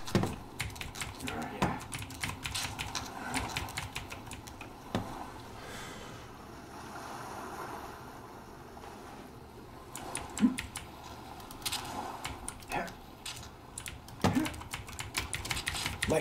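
Fast, clattering clicks from a computer keyboard and mouse during play of a difficult climbing game, steady and close throughout, with someone talking over them at times.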